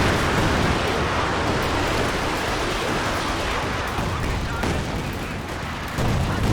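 Artillery shells from a barrage landing in a strategy video game, a loud, dense wash of overlapping blasts and crackling impacts that never lets up, with speech mixed in.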